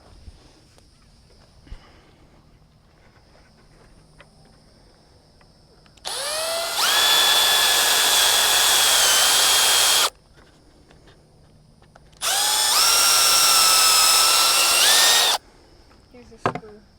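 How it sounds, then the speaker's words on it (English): A power drill drives screws into wood while old materials are repurposed in an herb garden: two loud, steady whirring runs of about four and three seconds, separated by a quiet pause. "Let me grab this drill."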